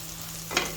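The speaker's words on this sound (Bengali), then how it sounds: "রসুন কুচি একটু 2-3 মিনিট ভাজা হয়ে গেলে" Chopped garlic fries in a pan, giving a short, steady close sizzle with a slightly louder burst near the end and no voices.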